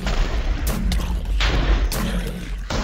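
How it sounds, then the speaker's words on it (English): Several booming video game explosions burst in quick succession over a constant loud rumble, each blast sharp and heavy against the background din. "I hear explosions like constantly"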